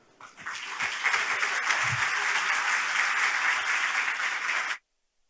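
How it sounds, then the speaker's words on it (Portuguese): Audience applause at a conference opening ceremony, a dense steady wash of clapping that swells quickly, holds at full strength for about four seconds, then stops abruptly. "uma salva de palmas antes para eles"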